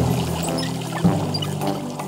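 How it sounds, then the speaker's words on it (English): Cartoon tap turned on, water pouring in a continuous gush with a slight splash near the middle, heard alone under a faint musical backing. "Just turn the handle to the left and watch the water squirt."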